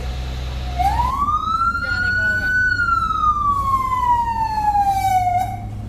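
A Thai navy fire engine's wailing siren rises and falls in one long sweep, loud and steady over a low engine rumble, at a fire near a gas station.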